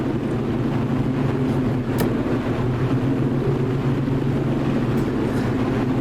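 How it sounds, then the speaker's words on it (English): A Vickers Wellington World War II bomber in a flight simulator game, its piston engines a steady, loud droning hum with strong low tones throughout, continuous and unbroken with no talking. "Now that is a Vickers Wellington bomber from World War II."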